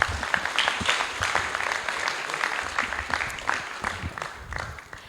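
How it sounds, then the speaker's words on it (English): Audience applause at a graduation ceremony for a certificate presenter, a fairly loud, dense burst of clapping from a crowd that holds steady for about five seconds before easing off at the end. "A round of applause for Sunika Mataji."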